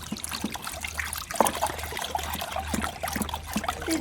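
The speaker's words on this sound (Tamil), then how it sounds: "இப்போ வந்து ஆசிட் திக்னர் ஊற்றிக்கலாம். அப்படியே ஊற்றிட்டு கிண்டணும்." Acid thickener is poured into a homemade liquid soap mix and stirred: a steady, close trickle of liquid with small splashes and light clinks, moderately quiet, with no voices.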